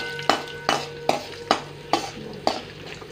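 Mustard seeds, chana dal, urad dal and dried red chillies fry in hot oil for a tomato drumstick curry tempering, a soft steady sizzle broken by six evenly spaced scrapes of a spoon stirring the pan, close and clear with no talk.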